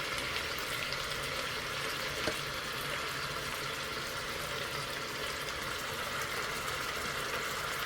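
Ginger, added to garlic already in a pan, fries with a steady, even sizzle that stays constant for around eight seconds with no talking.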